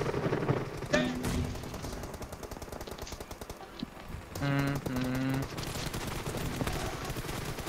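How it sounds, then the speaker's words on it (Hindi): Gunfire from guns in the PUBG Mobile video game: rapid, continuous automatic bursts rattle throughout, with a brief tonal sound in the middle. "चला लो अपने अपने गन चला लो,"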